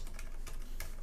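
Typing on a Ducky One 2 Mini mechanical keyboard with muted switches and a louder space bar, a quick run of soft, close keystrokes in an uneven rhythm.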